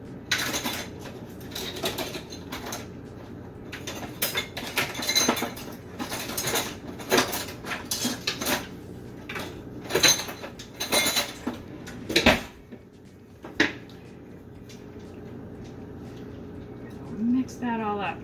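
A spoon scrapes and clinks against a bowl while stirring a homemade glue mixture with salt, producing close, irregular taps and scrapes spread across the stretch, with a person talking throughout.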